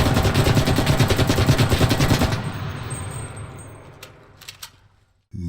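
A submachine gun fires a sustained rapid burst in a World War II video game, loud and close for about two seconds, then fades into an echoing tail with a few metallic clinks before a short click.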